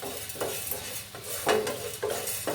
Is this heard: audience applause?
no